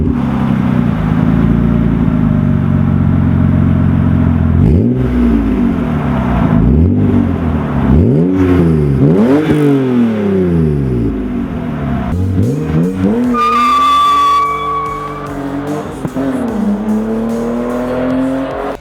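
A BMW E36 M3 with a Dinan catback exhaust revs loudly and repeatedly, the engine note climbing and falling in several sharp sweeps before a higher whining rise near the end.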